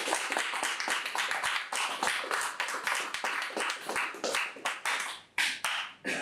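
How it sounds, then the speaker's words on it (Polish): Audience at a Polish evening discussion meeting applauds its two invited guest speakers, a dense, steady patter of many hands clapping close by that keeps going for several seconds with no talk over it. "Proszę o gorące brawa dla naszych dzisiejszych prelegentów."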